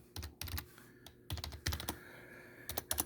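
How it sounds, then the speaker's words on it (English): Someone types a search on a computer keyboard, producing close, crisp keystroke clicks in short irregular bursts separated by brief pauses, with no talking. "if you type in Better Dwelling search"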